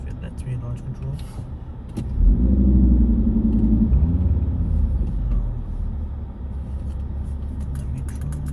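A car idling with a low rumble that swells as it creeps forward at low speed before a launch control attempt, heard close and steady, with short voice fragments over it.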